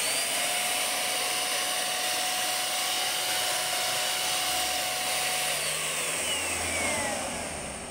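A HomeRight paint sprayer sprays cabinets, a steady airy hiss and whine that holds evenly throughout and fades slightly at the end.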